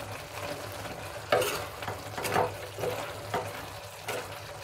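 Brinjal and raw peanut curry is stirred in a pan with garam masala and chopped coriander, giving soft repeated scraping strokes over a quiet, steady sizzle.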